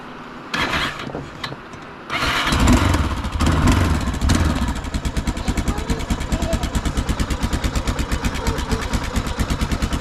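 A motorcycle engine with a dead clutch sputters and revs up loudly, then settles into a steady, fast, close-up thumping idle that keeps clattering to the end.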